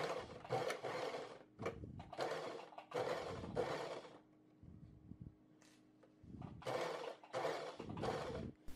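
A sewing machine stitches along the curve of a patch pocket, its motor running in short close bursts with brief stops for pivoting at the needle, and no talking.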